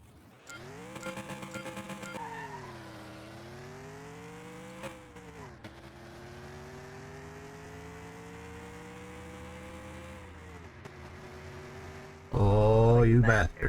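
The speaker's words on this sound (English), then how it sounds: "That's a quick little car." Engine of a small, quick car in a video game race: a steady droning engine note with shifting pitch runs throughout, ending in a sudden loud burst of revving and tire noise.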